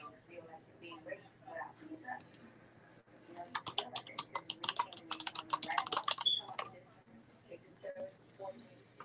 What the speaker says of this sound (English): I can hear Paulette typing.